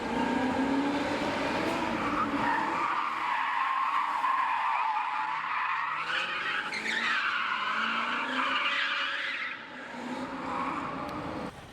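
A Lexus SC400 drifting on a street, tires squealing and skidding continuously under a revving engine, loud and steady throughout with a brief dip near the end.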